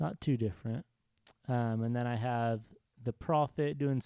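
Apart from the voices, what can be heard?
No everyday noises stand out.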